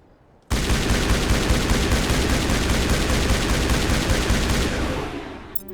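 Sustained automatic gunfire from a weapon in Mass Effect, a loud continuous rapid burst that starts abruptly and runs for about five seconds before tapering off.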